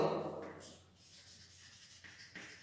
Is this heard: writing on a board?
yes